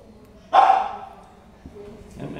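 A dog lets out one loud, close bark, followed by quieter sounds and people talking nearby.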